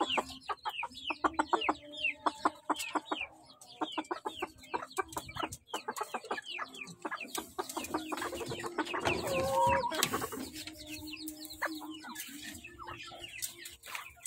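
Shamo chickens cluck repeatedly in a backyard, a busy run of short close clucks and calls from several birds overlapping, with one louder squawking burst partway through.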